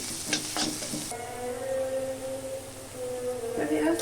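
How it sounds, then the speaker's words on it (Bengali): Onions frying in oil with a pinch of turmeric powder, cooked before small puti fish are added: a steady sizzle with stirring scrapes near the start and a low humming tone through the middle. "পেঁয়াজটাকে বেশ সুন্দর করে একটু ভালোভাবে ভেজে নিচ্ছি।"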